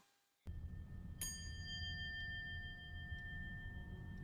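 Bell rung in a library in a 2022 horror film, a single bright ding that rings out with a long, slowly fading tone over low, steady background rumble, with no talk.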